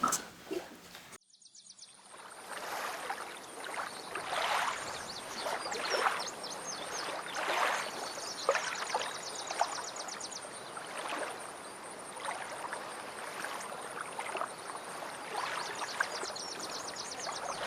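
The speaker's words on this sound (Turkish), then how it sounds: "Motor açacağım şimdi." A boat motor starts and runs on the water, a steady buzzing drone with choppy rumble and splashing that holds fairly loud and close after a brief quieter opening.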